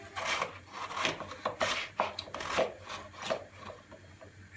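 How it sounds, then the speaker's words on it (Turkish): Thin potato slices being cut on a mandoline with a hand guard, a rhythmic series of scraping, rasping strokes about every half second, close and fairly quiet, with no talking. "ince ince patateslerimizi doğruyoruz"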